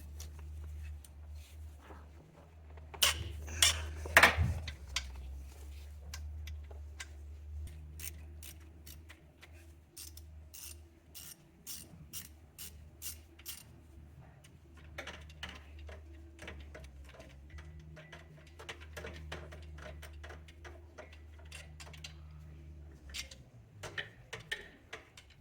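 A hand ratchet works loose the alternator bolts on a 2016-2024 Mazda CX-9, giving fast faint clicking runs that pause and resume amid soft clunks of tools against metal.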